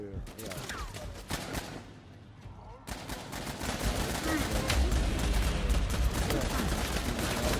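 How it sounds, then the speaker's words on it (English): Rapid video-game gunfire with bursts of automatic fire that build into a dense, continuous barrage, loud and steady through the second half. "I need cover fire quick"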